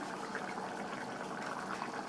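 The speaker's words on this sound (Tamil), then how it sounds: "நல்லா கொதிக்குது" Chickpea gravy with kasuri methi bubbles at a steady, vigorous boil in a pot, a continuous close-up bubbling with no talking.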